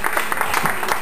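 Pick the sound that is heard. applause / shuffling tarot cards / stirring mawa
applause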